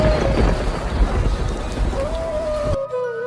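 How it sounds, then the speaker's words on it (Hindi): Heavy rain and thunder in a cartoon jungle, a loud, dense downpour hiss with low rumbling underneath and a faint held tone, cutting off abruptly just before the end. "अचानक जंगल में बहुत तेज से बारिश शुरू हो जाती है"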